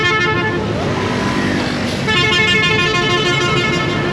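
Dense highway traffic on a Vietnamese road between Ho Chi Minh City and Hanoi, with trucks and cars rumbling steadily nearby and repeated sustained horn toots sounding through most of the stretch.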